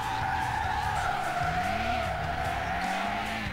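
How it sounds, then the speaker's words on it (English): A car drifts in the Need for Speed: Hot Pursuit 2 video game, with a continuous high tire squeal over a droning engine whose pitch rises and falls, loud and unbroken. "That I'm drifting into right now."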